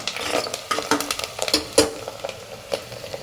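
Tomatoes sautéing in a pan for radish sambar, with repeated scraping and clinking of a spoon or spatula against the metal over a soft sizzle, close and fairly loud in irregular bursts.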